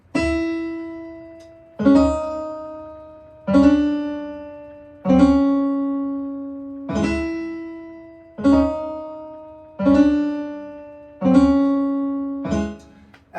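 Piano practice exercise played with the long note held on the first note of each group: eight evenly spaced phrases, each opening with a sustained tone that rings and decays before the next, clear and close, no talking.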